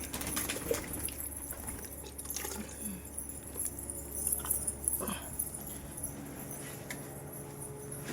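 Domestic pigeons kept at home with eggs in their nests coo softly now and then, mixed with faint rustling, clinks and a low background hum.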